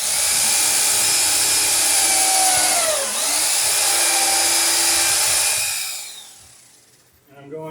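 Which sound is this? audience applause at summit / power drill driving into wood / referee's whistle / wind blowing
power drill driving into wood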